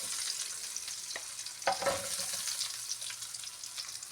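Tofu fries in hot oil, a steady crackling sizzle with a few sharper pops and spits, close and continuous with no voices.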